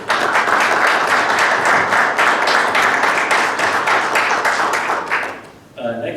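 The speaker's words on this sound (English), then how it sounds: "So let's give them a round of applause, please." A meeting audience gives a round of applause, dense and steady clapping from a room full of people that fades after about five seconds, then a voice begins speaking.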